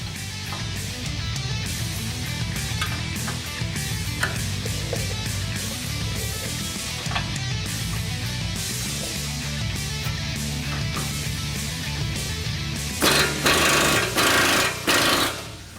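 A power tool works a very tight, factory-torqued 18mm-socket nut on the front suspension of a 2017 Ford F-150 Raptor during leveling kit installation, with steady, loud mechanical hammering throughout and a harsher burst near the end.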